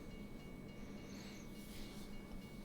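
A short in-game locomotive rumbles past in American Truck Simulator, a steady low faint rolling drone with a thin high whine, fairly distant and without voices.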